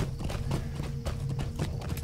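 Horse hooves clip-clop in a quick, even rhythm while riding in a video game, the beats moderately close and fairly quiet with no talk over them.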